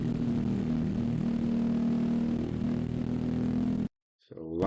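A race car engine held at full throttle on track, a steady droning note with a strong low hum that runs continuously before cutting off abruptly, then a brief voice.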